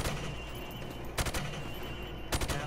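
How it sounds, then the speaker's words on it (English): Rifle fire at a shooting range in Modern Warfare: two sharp, loud bursts of rapid shots, one just past the first second and another near the end, over a steady background hum, with no talk. "Shooting the targets while firing from the hip."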